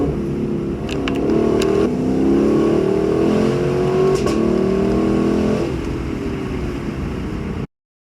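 A Lexus LC500 with its V8 engine driving on a hot day, a steady close engine drone that swells and rises in pitch as it accelerates, then settles before cutting off abruptly near the end.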